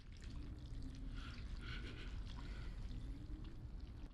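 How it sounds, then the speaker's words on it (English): Blood dripping from a body in an episode of The Last of Us, a faint, continuous liquid trickle and pour with no talk. "that noise of the blood dripping out of him"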